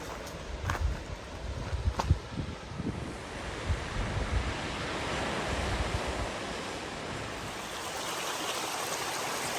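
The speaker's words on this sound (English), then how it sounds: "Oh wow, the waterfall." Waterfall at Keyhole Brook in Cape Chignecto Provincial Park, Nova Scotia, a steady rushing wash of falling water heard at moderate distance, with a few light knocks early on and no talk.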